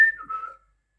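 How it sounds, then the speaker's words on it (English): A person whistles one short, thin note that wavers slightly and dips in pitch before fading out after about half a second, alone and close. "I can whistle, but not very well."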